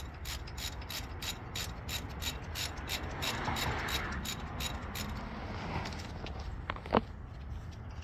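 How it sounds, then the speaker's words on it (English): A ratchet works loose a 12mm brake hose bolt during a front strut job on a 2002-2005 Acura EL / Honda Civic, making a steady run of fast, even clicks close by with a brief clank near the end and no talk. "first I want to take out this brake hose, which is held in by a 12mm. So just unscrew this part"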